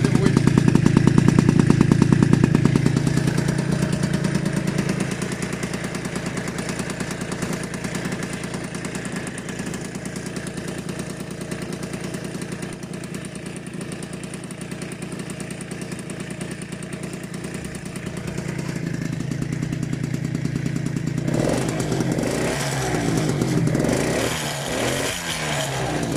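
A Derbi GP1 moped engine fitted with an MHR Nitro exhaust runs steadily, loud and close, with a continuous buzzing drone that holds for the length of the clip.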